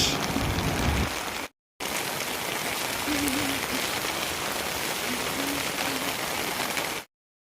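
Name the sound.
rain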